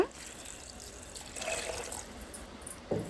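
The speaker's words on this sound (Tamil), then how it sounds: "ஒரு மூணுலேருந்து நாலு டம்ளர் அளவுக்கு தண்ணி சேர்த்துக்கோங்க" Water is poured into a pot of chopped banana stem for cooking, a soft steady trickle and splash in a kitchen with faint background noise.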